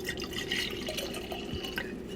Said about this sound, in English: So now I'm going to pour some into this glass.